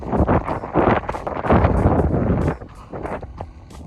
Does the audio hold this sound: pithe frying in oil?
no